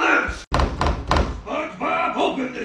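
A door in an animated Bikini Bottom cartoon scene slams with a few heavy, loud thuds, mixed in with voices talking.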